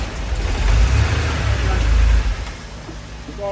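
Air-cooled flat-six of a 1982 Porsche 911 Slantnose running rough, a deep uneven rumble that swells and sags as it revs, close and loud.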